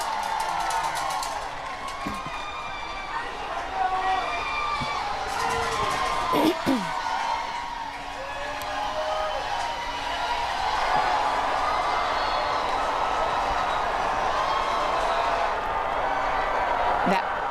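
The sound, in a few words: crowd cheering at championship parade on Gay Street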